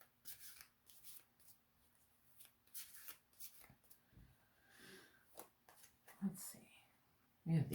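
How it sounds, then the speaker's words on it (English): Tarot cards being shuffled by hand, a series of soft close riffles and papery flicks in uneven bursts, with quiet murmured speech between them. "We're going to do some tarot cards here."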